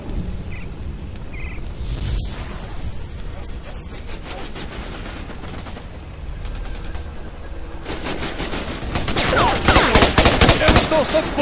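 Gunfire in the jungle shooter Raven Squad, with scattered shots and bursts over a dense, noisy backdrop that build into heavier, louder rapid fire near the end, and faint talk mixed in.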